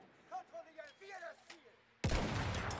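In Battlefield 1, a single loud sniper shot cracks suddenly after a few seconds of quiet voices talking, then its blast rolls away in a long, noisy decay.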